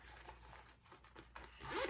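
A zipper on a fabric hip bag pocket is drawn open in a few quick, quiet rasping pulls, growing louder toward the end.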